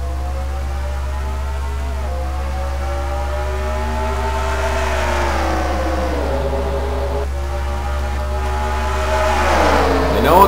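Race cars in a sim racing game accelerate from the green flag start at Dover, with engine tones repeatedly rising and dropping as they shift gears, growing louder toward the end.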